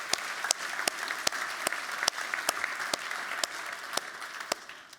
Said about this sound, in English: could I have a big round of applause first up